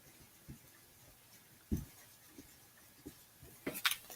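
Marker or chalk strokes on a board sketching chromatin during a biology lesson, a few soft scratchy strokes spread across the stretch with a sharper squeak near the end, close and quiet.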